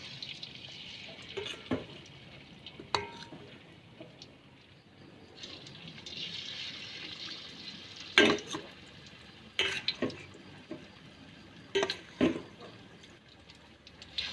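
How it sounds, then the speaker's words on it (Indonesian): Gehu dough fries in hot oil with a soft continuous sizzle, punctuated by sharp clinks of a utensil against the pan at irregular intervals. "Saatos minyakna panas, adonan digoreng."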